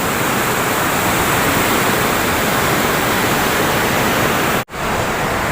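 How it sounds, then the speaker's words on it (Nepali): Rushing water of the Riyang Khola river in the Nepali hills, a steady broadband roar of flowing stream heard close and alone, with a brief dropout near the end. "रियाङ खोलाको दृश्यहरू है"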